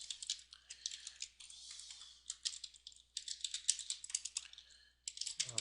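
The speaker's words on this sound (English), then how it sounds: "If you don't want to watch me type CSS, you can fast forward this part." Rapid typing on a computer keyboard while entering CSS code, with dense clusters of crisp keystrokes broken by brief pauses, close and fairly quiet, with no talk over it.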